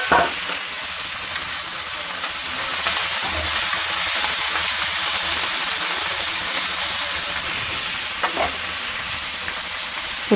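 Boiled broad beans hit hot tempering oil in a pan, setting off a loud, steady sizzle and hiss that carries on throughout, with a couple of sharp crackles and no voices.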